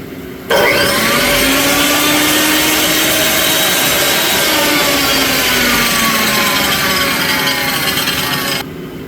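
A tile saw cuts through a slab of Montana agate stone, a loud steady whine with a grinding, rising-and-falling pitch that starts abruptly and runs nearly nine seconds before cutting off.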